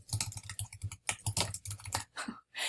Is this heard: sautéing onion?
no